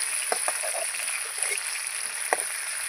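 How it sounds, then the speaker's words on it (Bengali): Chicken pieces fry in hot oil in a home kitchen, giving a steady broad sizzle with a few brief crackles and pops standing out near the mic. "এইভাবে লাল লাল করে ভেজে নিতে হবে"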